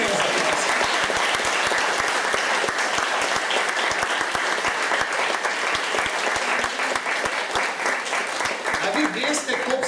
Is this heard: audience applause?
yes